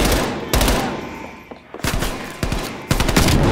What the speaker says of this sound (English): Oh man, the shotgun feels so good.